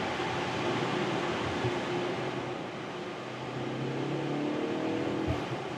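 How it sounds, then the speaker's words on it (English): Exhaust note of a BMW M135i carried into the cabin on a rainy day, a steady low engine drone with a faint rise, mixed with constant rain hiss through a lowered window. "But I think the exhaust here, the note that's transported to the interior is actually quite cool."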